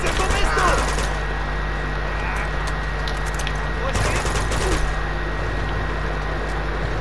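Gunfire in the video game Uncharted 2: Among Thieves, with a few bursts of rapid shots about a second long, near and loud, over a steady low game soundscape.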